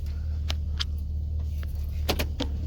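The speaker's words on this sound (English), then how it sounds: "I'm trying to back up my truck" A moving truck backing up in a dog park: a steady low engine idle rumbles throughout, with scattered clicks, taps and small clatters on top and no talk.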